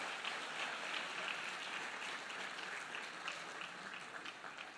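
A church congregation claps together in steady, sustained applause for about five seconds, a dense wash of many hands at moderate distance with no voices standing out.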